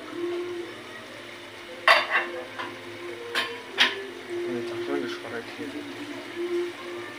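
Spice paste with turmeric, salt and cumin stirred and fried in a pot, quiet sizzling under a few sharp scrapes and clinks of the spoon against the pot, with a voice speaking briefly.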